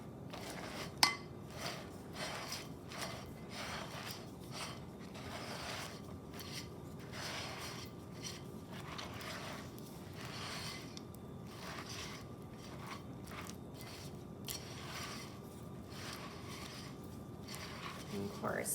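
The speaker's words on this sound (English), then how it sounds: "we're just going to stir it around so that the marshmallow and butter mixture will get it all nice and coated over the cereal" A spoon stirs a sticky marshmallow and butter mixture through Lucky Charms cereal in a bowl, soft repeated scraping and crunchy rustles at close range, with a faint clink now and then.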